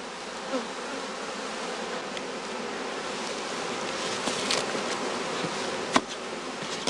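Honeybees throng in a beekeeper's boxes with a dense, continuous buzzing hum that carries the whole stretch, with a few sharper close passes standing out.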